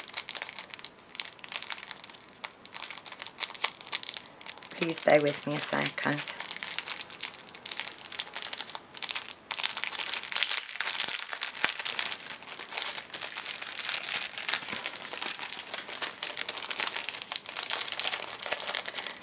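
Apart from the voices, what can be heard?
crinkling of plastic packaging being opened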